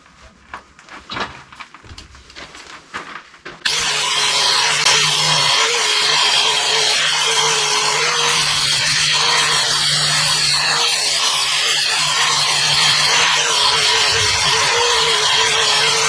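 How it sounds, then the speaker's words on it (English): An electric grinder cleans up the edge of an old knife, starting with a few clunks and handling noises, then spinning up into a loud, steady, high whine with a hissing grind that holds unbroken to the end. "I'm going to use a little bit of my grinder"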